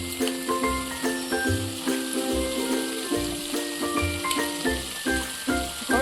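Cheng (snakehead) fish pieces are added one by one to hot mustard oil for a spicy Bengali fish curry, giving a steady, fairly loud sizzle beneath continuous background music.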